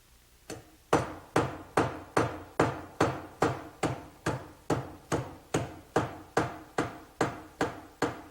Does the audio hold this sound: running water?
no